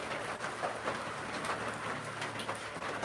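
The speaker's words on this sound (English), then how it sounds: "Other than it's raining, I don't know why he'd be so grouchy." Steady rain falls outdoors as a dense, even hiss of drops striking surfaces, continuous and fairly close for the whole stretch with no voices.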